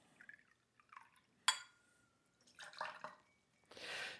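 Apple cider is poured into a BeeSting cocktail, heard as faint, short liquid pours and drips with quiet gaps between them, ending in a brief, fuller splash.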